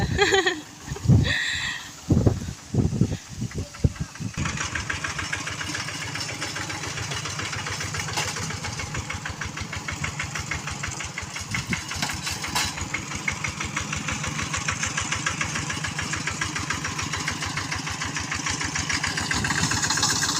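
A car engine idling steadily after a few sharp opening knocks and bumps, running with a fast, even mechanical chatter at moderate loudness for the rest of the stretch, with no voices.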